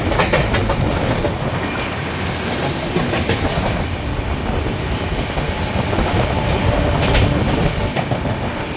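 Train noise from the 12276 Humsafar Express between Delhi and Prayagraj near Aligarh Junction, a loud, steady rumble with rhythmic clatter of wheels over rail joints throughout, no talking.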